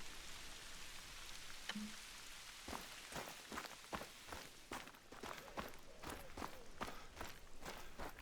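Quick footsteps patter at a steady running pace over a constant hiss of rainfall in the hunting video game Call of the Wild, the steps crisp and close.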